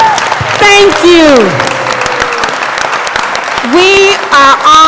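Applause from an audience at a sickle cell disease gathering, clapping continuing beneath a speaker's voice that breaks in several times over it.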